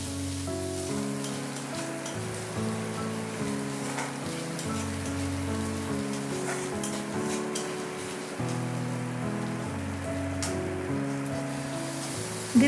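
Ginger garlic paste frying with onions in a pan gives a steady, dense sizzle throughout, with soft background music running underneath.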